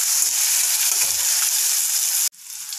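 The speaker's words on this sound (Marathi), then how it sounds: "आता आपण यामध्ये टोमॅटो ॲड करूयात आणि हा सुद्धा व्यवस्थित टोमॅटो शिजेपर्यंत परतवून घेऊयात" Chopped onion and tomato sizzle steadily in a hot pan, a close, continuous hiss with a soft stirring scrape, cut off abruptly near the end before the frying resumes more quietly.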